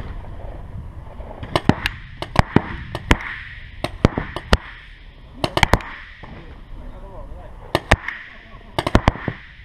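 Paintball gun shots striking a GoPro camera outdoors: a series of sharp, loud cracking impacts, some in quick pairs and bursts, spread irregularly across the clip over a steady background and occasional voices.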